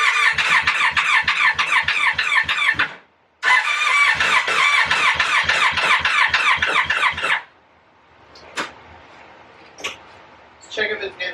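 Project car engine cranking over without catching, with a fast rhythmic starter chug in two long bursts separated by a short pause, then a few sharp knocks and clicks.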